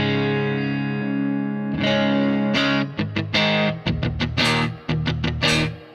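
Electric guitar played through a Quad Cortex blending Princeton and Matchless amp models, first a sustained ringing chord, then a run of sharp, distorted strummed stabs with effects and a short reverb tail, loud and close with no voices.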